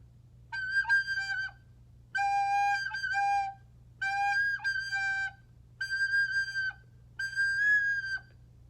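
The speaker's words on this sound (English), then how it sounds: "Sometimes you'll get a little bit of a squeak" A recorder with a finger hole partly uncovered plays five short bursts of notes, each wavering and breaking into shrill squeaky overtones, close and fairly loud.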